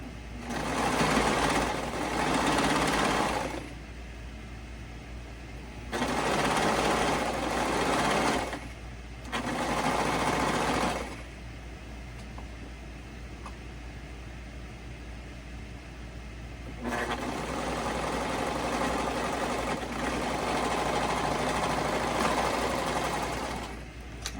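A sewing machine stitching T-shirt fabric runs in several bursts of rapid stitching, separated by short pauses, with a steady hum throughout; close and fairly loud.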